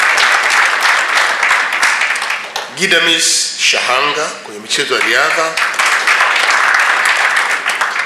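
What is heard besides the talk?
audience applause for athlete Philbert Bayi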